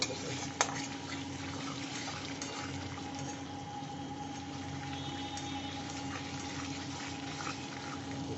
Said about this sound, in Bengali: এই যে জল দিয়ে দিয়েছি জলটা ফুটবে